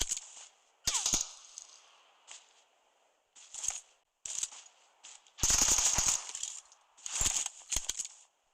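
Enemy gunfire in PUBG Mobile comes as a string of sharp, close shots and short bursts, irregularly spaced with quiet gaps between, the densest volley arriving toward the middle.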